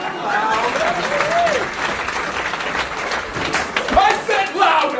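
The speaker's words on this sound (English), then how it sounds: "Give me a hand, everybody." Louder crowd applause and cheering, thick sustained clapping with shouted cheers and whoops rising over it, swelling near the end, loud and close throughout.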